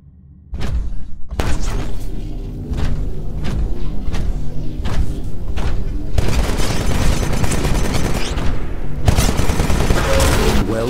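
A Titan's Vortex shield in the Titanfall game fires back absorbed gunfire: dense bursts of rapid shots, booms and thuds. A short quiet opening gives way to loud, sustained volleys and clusters of impacts.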